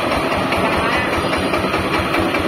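A Yamaha NS 130 engine of about 15 horsepower idles steadily on a used Japanese tractor, a loud, close, even diesel chug with a fast regular pulse throughout.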